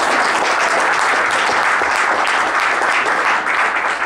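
An audience claps and cheers for a military service member who served two tours in Iraq, steady dense applause filling the room throughout with no talk.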